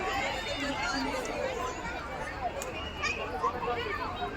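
Dense crowd chatter fills a busy fair with amusement rides, a steady babble of many voices near and far with no single voice standing out.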